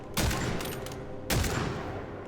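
Two sharp, loud shots from a bolt-action rifle in the video game Witchfire ring out about a second apart. Each blast is followed by a short metallic tail, and no one talks.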